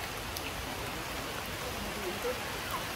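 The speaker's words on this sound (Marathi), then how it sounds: "पाऊस एकदम जोरात आलाय" Heavy rain pouring down near a cave, a dense, steady hiss of downpour with drops spattering on surfaces, no talk.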